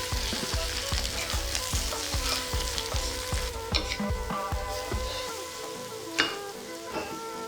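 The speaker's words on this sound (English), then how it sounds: "Now that I have added turmeric and salt, I am going to mix it all together." Turmeric, salt, potatoes and eggplant sizzle in a frying pan while a utensil stirs them with steady rhythmic scrapes, close and moderately loud, with a sharper clank near the end.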